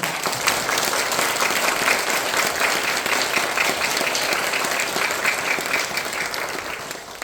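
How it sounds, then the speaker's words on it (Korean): Warm congregation applause at an afternoon praise service in a Korean church, sustained and dense throughout, fairly even in loudness with a slight fade at the end. "목사님 우리 한번 귀한 말씀 감사하고 뜨거운 박수로"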